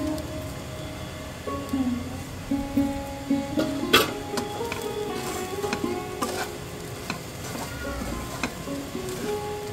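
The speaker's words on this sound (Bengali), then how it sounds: "ভালোভাবে মিশিয়ে নেব।" Mint rice is stirred and mixed in a pan, with close scraping and clattering of a spatula over a soft sizzle, and faint background tones running underneath.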